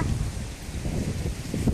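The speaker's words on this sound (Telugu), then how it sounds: "ఇంకా గాలి అయితే ఎక్కువైపోయిందండి ఇంకా వాయిస్ అయితే క్లియర్గా రావట్లేదు" Strong gusty wind blowing outdoors during a sudden dust storm, a close rumbling buffet against the microphone with a rustling hiss that rises and falls, and no speech.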